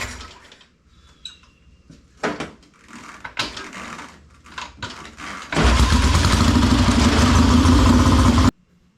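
A 1967 Triumph custom chopper motorcycle fires up at full ignition advance after some quiet clanking, then runs loud and close for about three seconds before cutting off abruptly.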